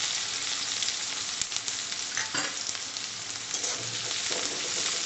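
Chopped chilies and onion frying in a pan for shing ki sabji, a steady close crackling sizzle with occasional stirring scrapes and no speech.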